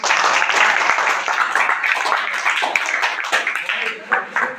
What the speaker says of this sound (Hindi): ताली अपने लिए